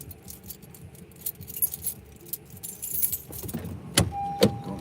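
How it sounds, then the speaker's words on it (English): Keys jangle to open a gate, small metallic rattling that grows louder and sharper near the end, with a faint car or road hum in the background. "So I'm gonna get my keys so I can open the gate."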